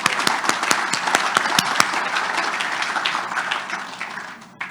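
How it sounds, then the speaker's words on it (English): An outdoor farm audience at an agricultural anniversary celebration breaks into loud, sustained applause. Sharp individual claps stand out over a dense wash of clapping that continues steadily, with no talking over it. "let's give Claire a round of applause"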